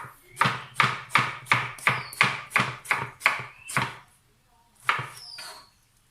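A knife chops food into small pieces rhythmically on a board, about ten quick even strokes, then a pause and two more cuts, close by, while making meatball dipping sauce.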